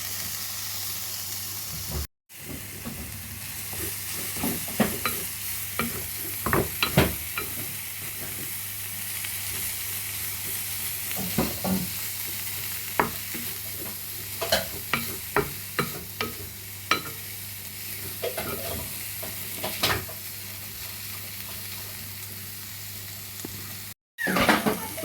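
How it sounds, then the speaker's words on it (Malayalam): Chicken fries in garam masala with a constant sizzle and hiss, while a spoon scrapes and stirs against the pan in repeated irregular strokes over a long stretch, close-up, with no speech. "ഗരം മസാല ഇട്ട് നല്ലപോലെ മിക്സ് ചെയ്തതിന് ശേഷം നമുക്ക് ചിക്കൻ അതിലേക്ക് ഇട്ട് കൊടുക്കാം."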